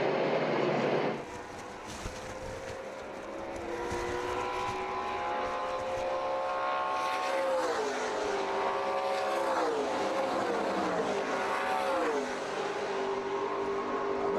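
NASCAR Pinty's Series stock cars race at Canadian Tire Motorsports Park. One engine drops away early, then several roaring engines rise and fall in pitch as the field strings out down a long straight, loud throughout.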